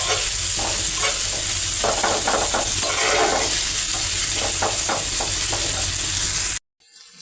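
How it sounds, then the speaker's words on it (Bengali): Chili and onion fry in a pan for a potato and okra dish, giving a steady loud sizzle with scraping stirring strokes throughout, alone without talk, cutting off abruptly near the end. "মরিচ ভাজতে দিচ্ছি আমি।"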